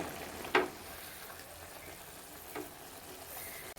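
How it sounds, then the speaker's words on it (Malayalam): A pan of Angamaly-style chicken milk curry, cooked without added water, bubbles and simmers with a soft, steady sizzling hiss, broken by two brief clinks of stirring. "നമ്മുടെ ചിക്കൻ കറി കിടന്ന് തിളയ്ക്കണ തിള കണ്ടോ?"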